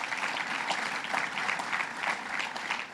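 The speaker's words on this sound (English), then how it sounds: "Let's give him a round of applause" Sustained audience applause honoring Bob Duffy at a Rochester sustainable development event, a dense steady clatter of many hands clapping throughout with no voices over it.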